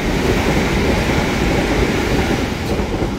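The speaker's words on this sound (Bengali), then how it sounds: "এটা কি আমাদের ট্রেনটা?" A train arriving at a London station on a rainy night, a loud, close, steady rumble of wheels and carriages throughout.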